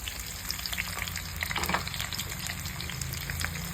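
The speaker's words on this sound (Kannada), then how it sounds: "ಆ ಒಂದು ಆನಿಯನ್ನ ಮತ್ತು ಕ್ಯಾಪ್ಸಿಕಮ್ನ ಹಾಕಿ ಫ್ರೈ ಮಾಡ್ಕೊಳ್ತೀನಿ" Sliced onion and capsicum fry in hot oil with a steady, close sizzle and crackle, broken by occasional stirring scrapes in the pan.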